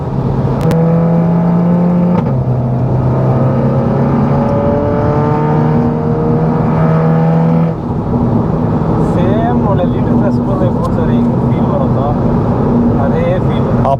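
A BMW 340i M Sport or Audi TT sports car engine revs with automatic gear changes, steady loud drone stepping in pitch, heard from inside the cabin with people talking over it.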